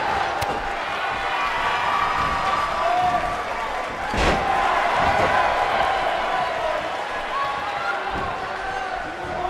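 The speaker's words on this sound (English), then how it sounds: "listen to the appreciation this Columbus crowd is giving these superstars" A Columbus arena crowd in the wrestling video game WWE 2K18 cheers steadily during a Fatal 4-Way match, with ring thuds and a sharp slam cutting through the roar.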